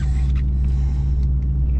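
A 1994 Ford car engine idles with a loud, steady low rumble, and faint mechanical sounds come through as the gear selector is moved.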